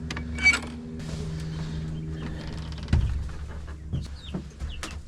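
Young chicks in a small outdoor chicken house give soft, scattered peeps and clucks, mixed with occasional creaks and knocks of the coop nearby.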